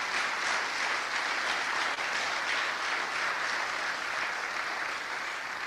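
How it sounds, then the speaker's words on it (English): Sustained applause from a town hall audience in a church, thanking the church and its pastor, a dense steady roar of clapping holding evenly throughout with no speech over it. "Can we give the church and Pastor LeClaire another round of applause?"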